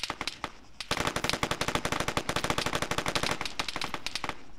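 Automatic gunfire in the military shooter game Arma 3 during a Battle Royale match on Wake Island: a few scattered shots, then a long, loud, steady burst of rapid rounds that keeps going to the end.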